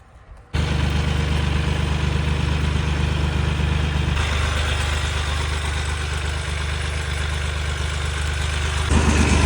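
A Kentavr tractor engine runs steadily while plowing with a single-bottom plow, a loud continuous mid-low drone that starts abruptly and keeps a constant, even tone throughout, with no talk.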